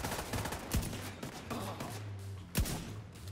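Gunfire in The Division 2: a quick string of sharp shots over a low, muffled background, with two louder, harder cracks standing out, all fairly quiet overall.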